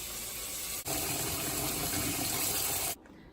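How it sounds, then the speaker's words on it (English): Tap water pours steadily into a cooking pot of potatoes, a loud, even rush that starts abruptly, runs about two seconds and cuts off. "Now fill the pot with water 1 inch above the potatoes."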